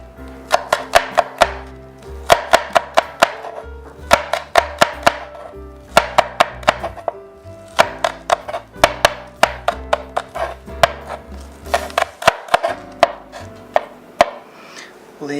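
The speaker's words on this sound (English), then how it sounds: "green onion, finely chopped" A knife finely chopping green onion on a cutting board, sharp rhythmic taps in quick repeated runs with short breaks, close and crisp, no talking.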